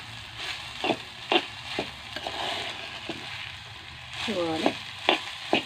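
Okra being stirred and fried in a pan for a homestyle Kerala vendakka thoran: a steady sizzle with repeated scraping stir strokes, close and fairly loud, with a brief voice near the end.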